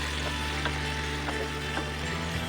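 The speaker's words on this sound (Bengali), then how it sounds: "আলুটাও কিন্তু ঢেঁড়সটার সাথেই ভালোভাবে ভাজা হবে।" Steady, even sizzling of potatoes and okra frying in a pan, a continuous hiss with faint crackles throughout and no voices.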